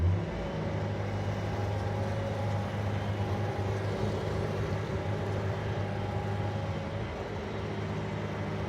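A track loader is driven, its engine giving a steady, close, low rumbling drone with little change in pitch throughout.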